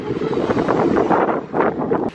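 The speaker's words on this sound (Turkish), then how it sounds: "Burada ne güzel rüzgar esiyor" Wind blows steadily across an open rooftop terrace in a Turkish village, with rushing, gusty noise buffeting the microphone and swelling in a couple of stronger gusts.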